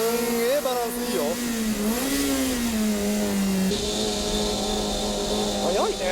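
A Honda Accord engine revs hard on a race track, loud and close, its pitch climbing and dropping through gear changes with a brief tire squeal near the end.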